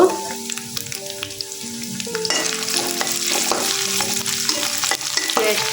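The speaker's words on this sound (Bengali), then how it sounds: "দুইটা তেজপাতা দিয়ে দেবো" Two bay leaves frying in hot oil in a pan for a village-style meat pulao, a steady loud sizzle with stirring scrapes throughout, close up and without speech.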